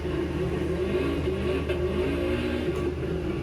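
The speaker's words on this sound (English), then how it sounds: "do you listen to the sound of the engine?" A drift car engine revs and surges through a drifting demonstration in second gear on a fast section, a continuous loud rising and falling growl heard from nearby without talk.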